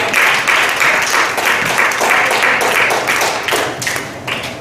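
A church congregation claps their hands in praise, loud and close, with a dense, slightly rhythmic patter that tapers near the end.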